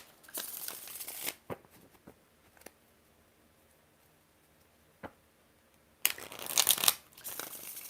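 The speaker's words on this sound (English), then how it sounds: "3 more shuffles for Alex." Tarot cards being shuffled in a few separate riffling bursts, loud crisp flurries at the start and end with quieter ticks and taps between, no talking.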